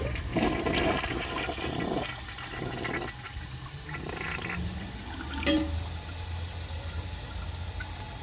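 A 2007 Kohler Highline Ingenium toilet flushes with a loud rushing swirl of water that gradually eases into a quieter gurgling refill, heard up close with no talking.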